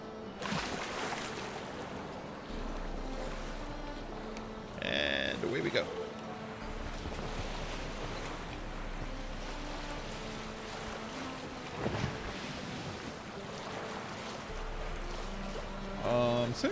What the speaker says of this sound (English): I was going to take a boat over there for fun.